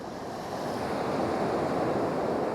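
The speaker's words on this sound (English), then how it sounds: "The wind is wicked. It's a westerly cutting" A strong westerly wind blows across a UK beach during sea fishing, a constant loud roar mixed with surf that rises slightly and holds steady, with no voices.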